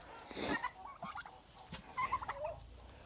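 A flock of crossbred turkeys, from Bronze toms and Bourbon hens, gobbles in several short, warbling bursts at moderate distance. The calls overlap and are fairly faint.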